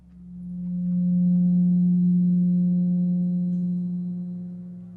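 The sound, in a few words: 180 Hz tone from the triangle's degrees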